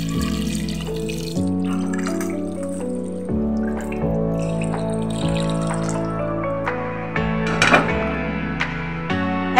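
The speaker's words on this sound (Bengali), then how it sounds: "এবার আমি গরম জল দেব।" Hot water pours into a pot of mutton and potato curry, a steady trickling splash running underneath a continuous background of music.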